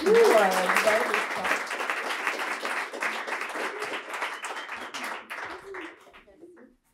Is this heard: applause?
yes